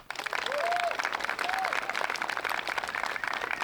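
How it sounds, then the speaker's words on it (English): A gallery crowd at the Copenhagen Open disc golf tournament in Denmark applauds a player, with steady, moderately distant clapping and a couple of whistles. "Please give a big round of applause for Mauri Villmann."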